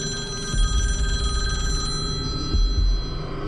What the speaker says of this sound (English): At around 12:30 a.m., the phone rang.